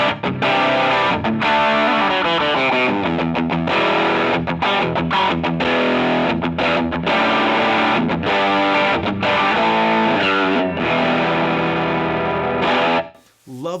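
Electric guitar runs through a Rattler distortion pedal with a Cali76 compressor, playing a loud, sustained, gritty riff of chords and notes for about thirteen seconds, then cutting off abruptly.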